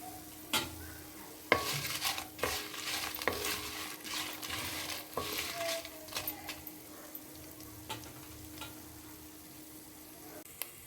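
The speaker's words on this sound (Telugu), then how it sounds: "చక్కగా కమ్మని వాసన వచ్చేదాకా వేయించుకోండి ద్వారాగా మధ్య మధ్యలో కలుపుతూ తిప్పండి" Ingredients for coriander chutney dry-roasting in a pan with occasional stirring, sharp spatula scrapes and clacks at irregular intervals over a quiet, gentle sizzle, close and alone with no talk.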